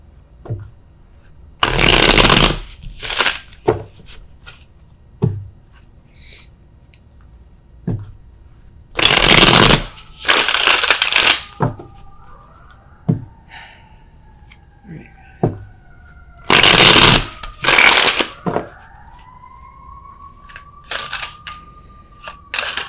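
Tarot cards are shuffled in three short, loud bursts of riffling and shuffling, with quieter stretches between where a voice speaks softly.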